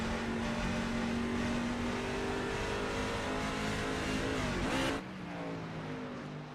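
A race truck engine in the iRacing game at Phoenix screams at high revs with a rising whine, then drops sharply near the end as it shifts or lifts off, loud and continuous with no talk.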